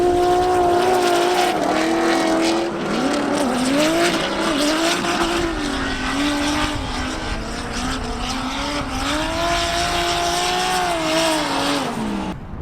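A turbocharged Pro-Am drift car screams continuously at high revs, engine pitch rising and falling with throttle and gear changes, tires squealing throughout, loud and close with no talk.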